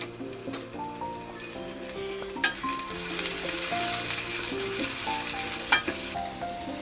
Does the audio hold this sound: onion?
yes